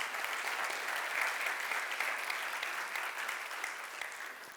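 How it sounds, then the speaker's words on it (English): An audience at a welcome session in Venice applauds, a dense, even patter of many hands clapping that stays steady and fairly close before tapering slightly toward the end. "maybe a round of applause for all of them for making this happen."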